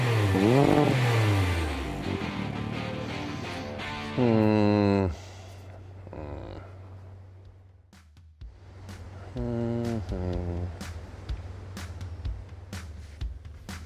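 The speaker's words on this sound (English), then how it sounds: "we also added a better sounding exhaust to the Can-Am." A Can-Am UTV engine revs hard through an aftermarket exhaust in several rising bursts, with throaty exhaust roar, dropping to idle between pulls, close by.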